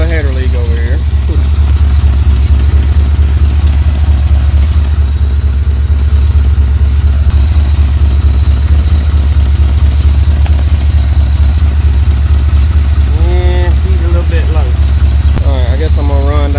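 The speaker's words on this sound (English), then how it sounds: "Obviously we got a little bit of a header leak over here." A 1986 Chevrolet Suburban dually idles loudly and steadily, its engine carrying a low, even drone with ticking from a leaking exhaust header, while someone talks over it for much of the time.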